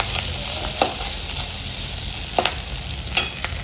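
Food fries in a pan in a home kitchen with a steady, close sizzling hiss, broken every second or so by sharp scrapes and taps of a spatula stirring.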